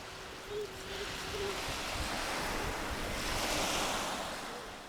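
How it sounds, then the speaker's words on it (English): Ocean waves wash steadily onto the shore in a continuous, broad surf roar that swells toward the end and then eases, with some wind noise and no voices. "Twice a day, tides rise and fall, and waves constantly lap our shores."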